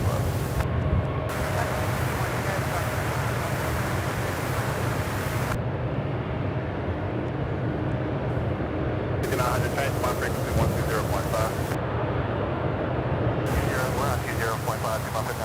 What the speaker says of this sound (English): I can get a glimpse of the airplane coming in from behind my back.